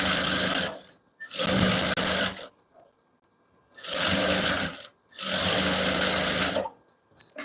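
Sewing machine stitching the finishing hem of a kurti: three loud bursts of fast, even needle clatter, each a second or so long, separated by silent pauses, with a faint click near the end.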